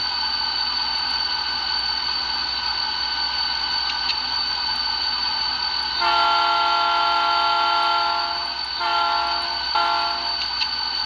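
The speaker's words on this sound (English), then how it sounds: "Horn." An O scale model train horn sounded through Railpro control on a dead-rail locomotive, a sustained electronic chime-like blast that starts steady, swells louder around the middle, then pulses in short repeated toots before holding on.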